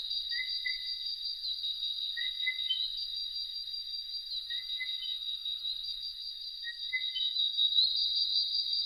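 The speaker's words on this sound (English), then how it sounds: "the sounds of the forest by night are dominated by tree frogs" Dense, steady high-pitched trilling from many tree frogs calling in a forest at night, continuous throughout, with brief repeated chirps standing out at regular intervals.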